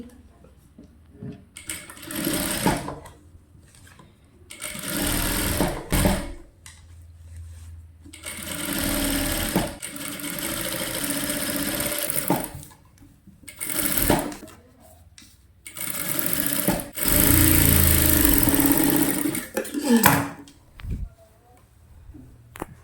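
A sewing machine stitches the lining of a saree gown in repeated bursts of fast whirring, stopping and starting between runs, close and fairly loud.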